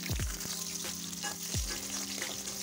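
Onion sizzling in hot oil with dried red chillies while cooking sambar, a steady close frying hiss with a few clinks of a spoon against the pan.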